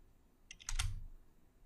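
A few quick computer keyboard key taps typing an Excel formula, about four clicks in fast succession, close and fairly quiet in an otherwise still room.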